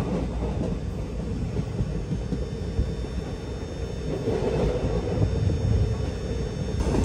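Parasuram Express train running on rails, a steady, close rumble of wheels and carriages that holds continuously throughout with no talk.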